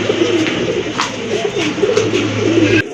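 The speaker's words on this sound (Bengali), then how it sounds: "দেখেন খুবই চমৎকার ডাকতেছে" Pigeons for sale, including a pair of Rajgolla birds, coo repeatedly in a throaty, rolling rhythm, loud and close, with faint rustling between calls.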